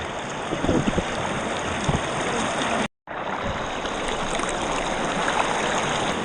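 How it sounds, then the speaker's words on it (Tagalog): Strong river current rushing at a campsite in Laguna, a dense, steady roar of flowing water, close and loud throughout, with a brief dropout midway and no talk. "ang lakas ng agos"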